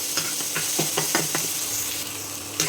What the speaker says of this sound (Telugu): అల్లం వెల్లుల్లి పేస్ట్ అనేది పచ్చివాసన పోయేంత వరకు వేయించుకున్నాం